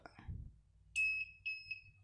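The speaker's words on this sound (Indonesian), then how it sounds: "maka alarm akan bunyi dua kali dan lampu sen akan nyala dua kali" A custom alarm fitted to a Honda CB150R motorcycle chirps twice, two short loud electronic beeps close to the mic, after a brief soft clatter of handling.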